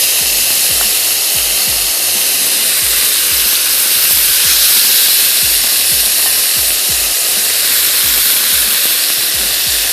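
Korean BBQ chicken pieces spread across a hot grill pan, sizzling in a loud, continuous hiss with soft thumps as the chicken is moved, close and without speech.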